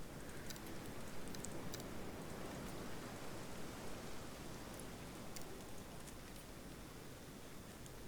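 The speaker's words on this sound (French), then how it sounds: "Vous voulez mettre qu'il y ait une pluie, apply weather, et il va pleuvoir." Steady rain falling in the video game Jurassic World Evolution 2, a continuous dense hiss of downpour with faint scattered droplet ticks, even and unbroken throughout.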